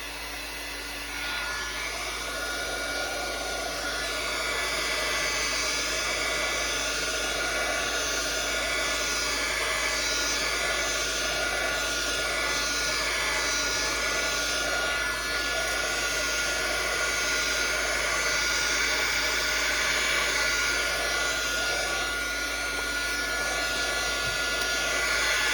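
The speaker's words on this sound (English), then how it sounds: "So I'll bring back in my heat tool and we're going to dry it." A heat tool drying ink on a handmade card blows a steady, loud, hair-dryer-like roar of hot air that runs continuously for the whole stretch, with no talking.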